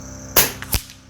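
Air rifle, a .25 caliber Avenger, fires a hunting pellet: one sharp close crack, followed a moment later by a second distinct snap, with no talking.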